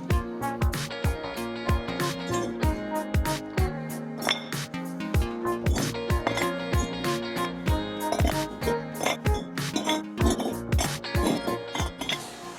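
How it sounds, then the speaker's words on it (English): Bricks are carried and stacked for a porch wall, giving repeated close, hard clinks and knocks in a busy, irregular rhythm with ringing tones, and no voices. "Let's get these bricks round here and then let's just crack on."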